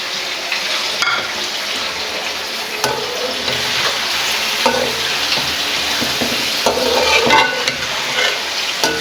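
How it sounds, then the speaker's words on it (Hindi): Chicken frying in a pan with ginger, tomatoes and green chillies just added, giving a loud, steady sizzle with scraping stirs and clatter running throughout, and no voices. "अभी जो है इसमें टमाटर और मिर्चें ऐड कर देते हैं"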